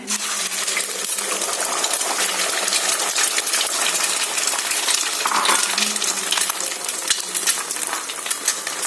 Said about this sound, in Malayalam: 3 മുട്ട ഞാൻ ഇതിലോട്ട് ആഡ് ചെയ്ത് കൊടുക്കുന്നുണ്ട്